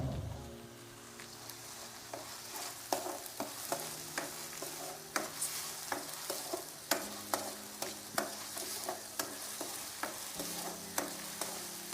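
Curry leaves fry in hot oil with a soft, continuous sizzle, while a spoon stirs the pan with light, rhythmic taps and scrapes. The sound is close and fairly quiet, with no talking.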